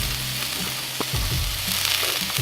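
Cut peppers frying on a Blackstone flat-top griddle, a steady close sizzle with a few soft clicks and scrapes of a spatula.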